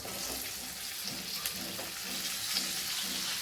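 Chopped chillies hit a pan of hot oil with cumin and carom seeds and fry in a quiet, steady sizzle, with faint stirring scrapes that repeat rhythmically underneath.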